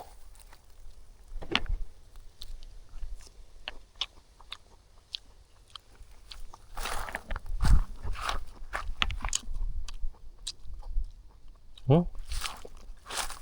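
Sweet tamarind pods are bitten and chewed outdoors, with crisp crunches and wet chewing close to the ear, mixed with people talking and some shuffling movement.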